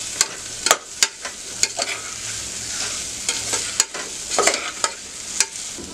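Cauliflower sautéed in a pan for spiced masale bhaat: continuous frying sizzle broken by repeated sharp scraping and stirring strokes at an irregular rhythm, close and fairly loud, with no voices.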